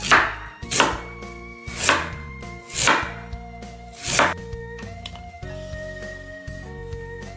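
A knife cuts through soft steamed purple sweet potato in five evenly spaced slicing strokes, each a short muffled thud on the board, with gentle music playing underneath.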